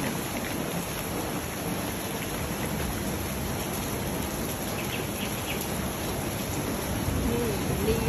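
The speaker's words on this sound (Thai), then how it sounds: "วันนี้ฝนตกค่ะฝนตกชุ่มฉ่ำนะคะ" Heavy rain pours steadily in a garden setting, a dense, continuous wash of falling water that stays loud and even throughout with no voices.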